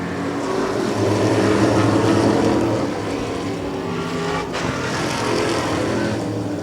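Modified race cars roar steadily in a group, engines droning loud and continuous as the pack runs past, with a faint swell and fade.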